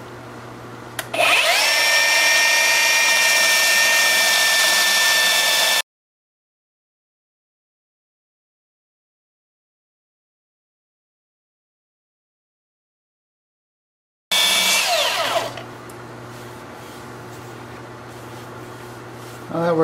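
A cordless belt sander works the edges of an alder bowl in two loud, steady whirring bursts, separated by a stretch of complete silence; the second burst fades to a quieter motor hum.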